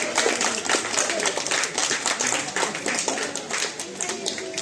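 Audience clapping at an Onam public gathering, a steady dense patter of many hands, with a voice over the microphone at the same time.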